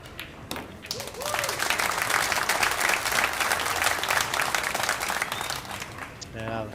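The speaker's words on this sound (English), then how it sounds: "the crowd again appreciative" Appreciative crowd applause at the semi-final of a men's 10-ball world pool championship, rising after a brief quieter start and holding steady, with faint commentary voices underneath.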